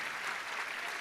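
Audience at a heritage commitment ceremony clapping in a steady, dense round of applause, even and sustained throughout.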